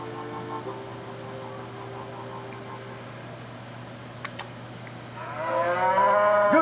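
Cattle on a trail drive in a video game moo over a steady low mains-like hum, one long drawn-out low moo early on and a louder, rising moo near the end.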